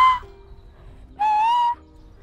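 Silbo, the whistled language, produced as a finger whistle: two sharp, loud whistled notes, a short one followed by a longer steady tone after a brief pause.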